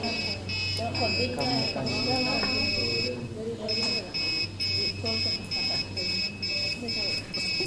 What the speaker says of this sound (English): I did not expect a buzzer to sing like that lah.